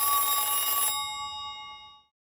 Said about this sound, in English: Kenny returned home to the sound of the phone ringing